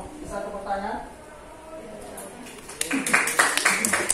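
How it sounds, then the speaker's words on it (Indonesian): Students in a classroom break into clapping, a burst of close, uneven claps and cheers after an earlier stretch of a teacher talking. "Oh, bisa tepuk tangan."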